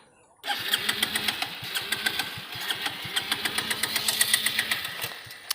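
A motorbike's engine cranks repeatedly on a weak battery, a steady rapid rhythmic chugging that never settles into a clean idle, loud and close throughout, with no talking.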